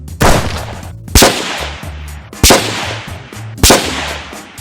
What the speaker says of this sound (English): Let's shoot a 50-yard group with the red dot only.